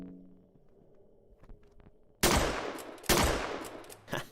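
Two loud, sharp blasts from a trench gun in the horror game Fear and Hunger Termina ring out about a second apart after quiet, muffled ambience, and each decays with a brief echo.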